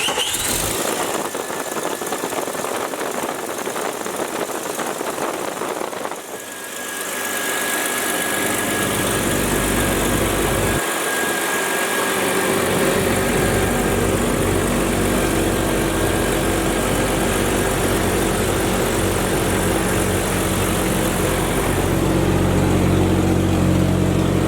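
A used Jeep engine cranks over and settles into a steady, loud idle, its continuous low rumble running alone for most of the stretch after an initial noisy start.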